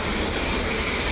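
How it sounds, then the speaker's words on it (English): A London Underground Circle Line train arriving at a station, a loud, close, steady rumble of wheels and carriages with a hiss of rail noise, no voices. "Here comes the Circle Line train."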